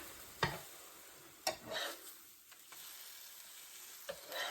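French toast frying in a pan: a faint sizzle with a few sharp scraping taps of a spatula as the slice is flipped, close but quiet, no voices.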